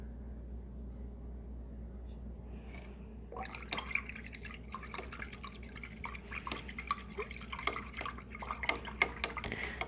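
Paintbrush swished and rinsed in a water cup between acrylic colors, soft close drips and splashy clinks that grow busier in the second half over a quiet room hum.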